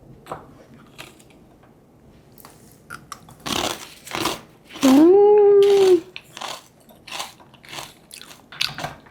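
A crunchy snack dipped in spicy olive oil is bitten and chewed up close, loud crisp crunches with a brief vocal hum in between.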